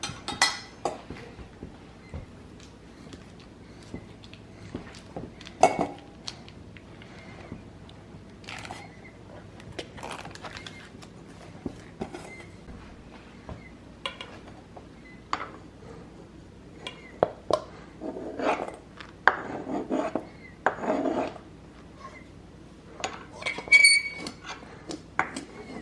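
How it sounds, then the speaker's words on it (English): Utensil clinks and scrapes against a bowl as sausage, cream cheese and peppers are stirred together, with irregular knocks and scrapes, fairly close and moderately quiet, no talking. "Now we just start mixing it up."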